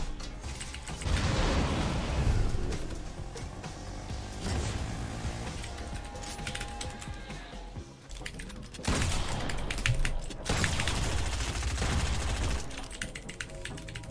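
Shotgun gunfire in the battle royale game Fortnite, with repeated blasts in bursts amid busy game noise, keyboard-like clatter and a talking player.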